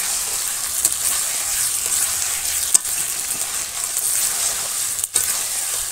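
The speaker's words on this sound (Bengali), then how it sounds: "মাংস কষা যখন প্রায় হয়ে গেছে," Meat being stir-fried as kosha in a village kitchen sizzles and hisses steadily, with a few sharp scrapes of stirring cutting through the constant frying noise.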